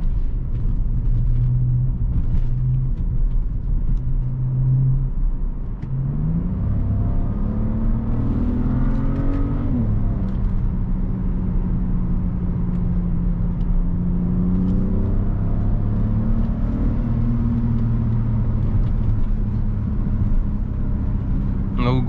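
A tuned BMW 535xi E61 estate with a JB4 module and about 370 hp accelerates hard on a rural road. The engine note climbs steadily in pitch through the gears and stays loud and close, over a constant low road rumble.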